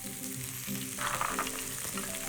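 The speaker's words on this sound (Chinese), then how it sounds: "把大葱呢爆香" Scallions fry in a mix of lard and salad oil, giving a dense, close sizzle that swells briefly louder midway, as if stirred, with no talking.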